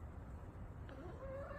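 Chickens in a backyard coop cluck softly over a steady low background hum, with one brief rising call toward the end; no one speaks.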